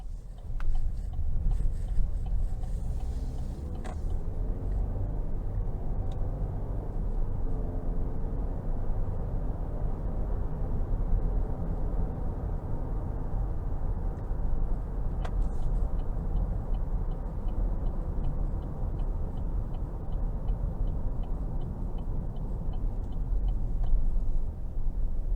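A 2023 GMC Acadia SLE with the 2.0T engine drives on the road, giving a steady low rumble of road and engine noise throughout, heard from inside the cabin with no talking.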